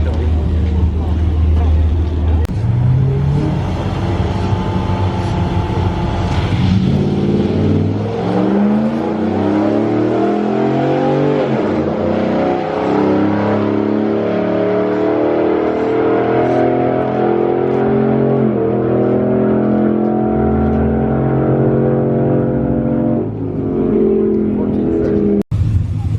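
A Ram TRX drag racing a bolt-on modified Ram truck, heavy V8 engines roaring loudly with rising and falling revs as they launch and accelerate down the strip, a long continuous close engine drone.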